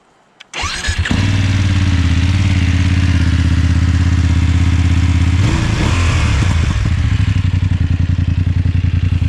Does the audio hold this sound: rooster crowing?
no